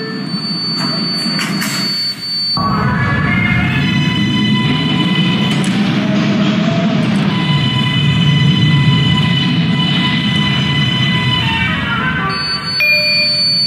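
A 4 subway train in a transit video game runs with a steady low rumble and whining motor tones, a chime or bell ringing near the start before the train noise settles into a continuous drone.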